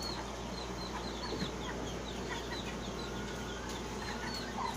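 Breeder chickens in a coop cluck and chatter continuously at close range over a constant background hum, with many birds overlapping.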